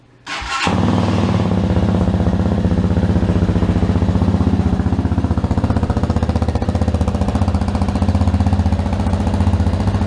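A Hawk motorcycle engine starts with a sharp burst, then settles into a loud, steady, throbbing idle close by, running evenly without anyone speaking.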